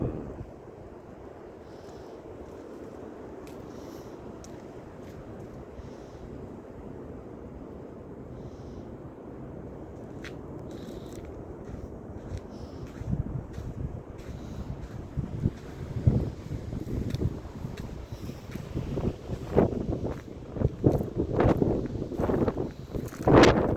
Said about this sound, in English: It's now very windy and snowy out here.